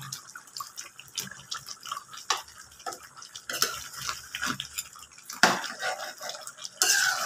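A spoon clinks and scrapes in a pot of vegetables simmering in coconut milk, with wet stirring sounds, irregular metallic taps and a few louder knocks, fairly close and without talking.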